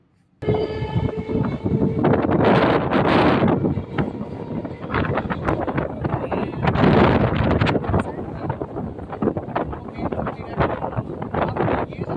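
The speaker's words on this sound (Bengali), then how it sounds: "ট্রেন এখন করেয়া কদম্বগাছি স্টেশন ছেড়ে বেরিয়ে যাচ্ছে" A train pulls away from Koraya Kadambagachhi station on the Barasat–Hasnabad line, a loud close rumble of wheels and wagons with rattling, wind buffeting and a horn-like tone, swelling twice as it gathers speed.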